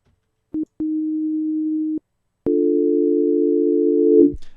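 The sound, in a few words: synth sound through low-pass filter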